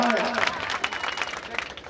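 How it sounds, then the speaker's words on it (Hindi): NCC cadets and audience clap together at a theatre festival ceremony, a steady wash of applause running under a speaking voice through the clip. "एनसीसी के कैडेट के लोग भी इनका क्लैप अपने तालियों से कर रहे हैं"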